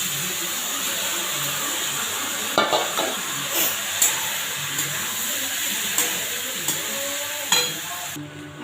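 Sago pearls frying in a pan with tomato and salt make a constant close sizzle, broken by repeated clinks and scrapes of a stirring spoon.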